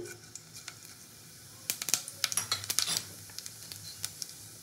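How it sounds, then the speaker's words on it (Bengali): Whole cumin seeds sizzle and crackle in hot oil left from frying katla fish, starting quietly and then breaking into a burst of sharp pops and spatters that thin out toward the end, heard close with no voices. "আমি গোটা জিরে ফোড়ন।"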